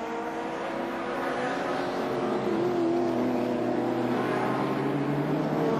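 A steady, loud engine roar drones continuously as Holden VL Commodore race cars pass at close range at Bathurst in 1990, with a sustained mechanical whine.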